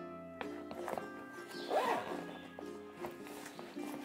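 A zipper pull on the side pocket of a Ju-Ju-Be B Quick bag, from the World of Warcraft line, makes a brief, quiet close rasp, soft against a light music background.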